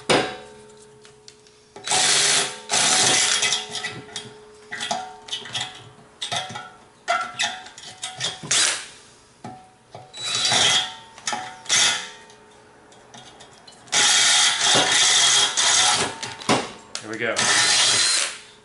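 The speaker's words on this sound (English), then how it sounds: "drill the hole now with a 3/8 drill bit" Power drill boring a hole with a 3/8 bit in a Jacobsen LF 3400 bedknife adjuster part, loud whining bursts that start and stop repeatedly, with speech between runs.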